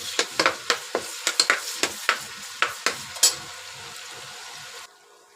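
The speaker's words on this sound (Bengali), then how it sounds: "এখন দিব থেতো করা 1/2 কাপ রসুন। এরপর একটু ভেজে নিব।" Crushed garlic added to onions frying in oil for spicy pulao, stirred with sharp repeated spoon scrapes and clacks over a steady sizzling hiss, close and alone, ending abruptly.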